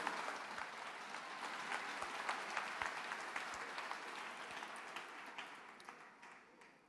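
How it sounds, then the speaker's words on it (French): A seminar audience claps in a dense, continuous round of applause at a Christian teaching event, heard at moderate distance, holding steady before tapering off at the end. "Une acclamation."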